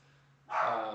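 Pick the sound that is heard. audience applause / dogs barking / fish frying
dogs barking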